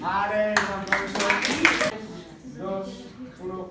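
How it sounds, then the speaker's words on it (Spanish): At a cultural extension event, an audience claps in a short, loud burst of applause that overlaps a speaking voice, and the talking carries on after the clapping fades. "Vale, un aplauso."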